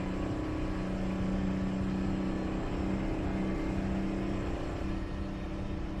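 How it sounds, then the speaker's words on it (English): Steady low diesel drone of an old Mack truck hauling a grain trailer in American Truck Simulator, engine braking with a continuous rumbling hum at constant loudness, no voices. "Jake brake sounds good though"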